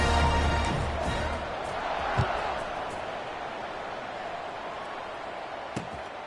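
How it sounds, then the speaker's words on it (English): A stadium crowd buzzing at a college football game after a score, a steady broad roar of many voices heard at a distance, with a few sharp thumps rising above it. "this crowd is buzzing after that last score"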